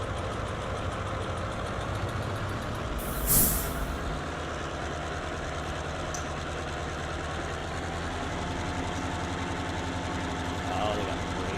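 Train air brakes in the Run8 railroad simulator game, a sharp hiss of released air over a steady idling locomotive rumble, with faint talk in the background.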